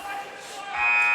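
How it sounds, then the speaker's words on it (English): A buzzer sounds to end the second period of a 2020 varsity high school wrestling match between Mount Carmel Area and North Schuylkill, a loud sustained tone rising out of gym crowd noise and commentary. "And on the buzzer,"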